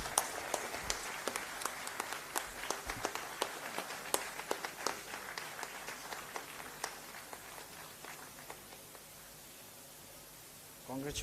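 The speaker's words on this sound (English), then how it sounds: "Applause, please." Audience applause at an award ceremony for a moot court competition, a dense patter of clapping with sharp individual claps that gradually thins out and fades over several seconds.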